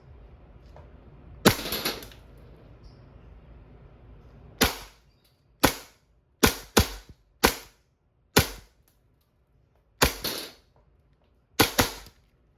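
A WE Hi-Capa T-Rex gas airsoft pistol fires semi-automatic, with about ten sharp, loud, close cracks spaced irregularly over roughly twelve seconds, some in quick pairs, against a faint background hiss.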